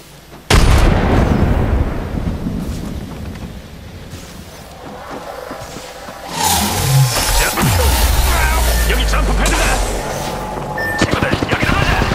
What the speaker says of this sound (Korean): 수류탄 간다.